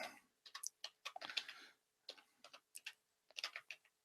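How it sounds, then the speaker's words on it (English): Keys on a computer keyboard clatter in quick irregular bursts while an email address is typed, quiet and close with short pauses between runs of clicks. "I'm just typing now an email address."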